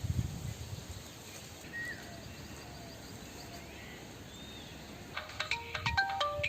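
A mobile phone ringtone sounds near the end as a bright, repeating electronic melody, after several seconds of quiet background with faint chirps.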